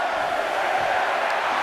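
Crowd roaring in a WWE 2K23 video game arena during a Royal Rumble match, a steady, loud wash of cheering with no break.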